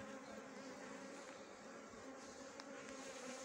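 Bees buzzing around beehive frames, a dense steady hum of many insects, close and continuous throughout with no talk.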